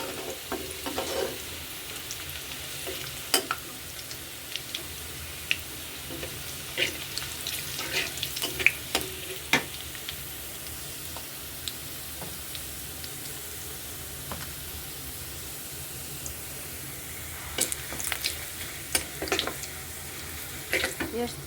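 Spice paste of crushed onion, chilli, garlic, salt and turmeric fries in a pan for a tilapia and eggplant curry, giving a steady low sizzle over about twenty seconds, broken by scattered clicks and utensil taps, with faint background voice at times.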